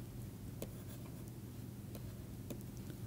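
Chalk tapping and scratching on a lecture-hall board comes through faintly in sparse, brief strokes over a low room hum, with no talking.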